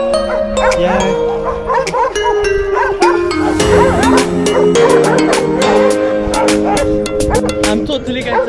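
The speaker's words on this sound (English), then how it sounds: "So you hear the many dogs that we're going back to now?" Many dogs bark and yip at a donkey refuge in Portugal, a busy chorus of repeated close and distant barks with some whimpering, while people talk over them.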